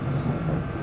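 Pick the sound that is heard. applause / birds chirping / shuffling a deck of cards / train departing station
train departing station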